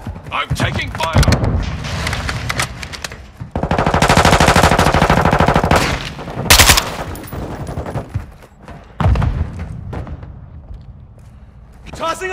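Video-game combat with loud, close machine-gun bursts and rapid gunfire, a sustained rattling volley in the middle and sharper single shots around it, while players shout and talk throughout.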